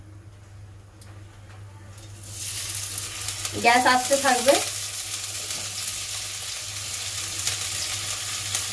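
Readymade chicken fries in hot white oil in a pan, the sizzle rising suddenly and then holding as a loud, steady crackle, with a brief spoken remark partway through.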